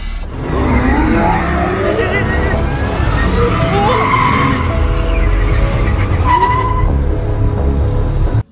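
A parked car in the 2018 film Inuyashiki starts and moves off, its tires screeching and engine roaring loudly and steadily for several seconds, with voices over it.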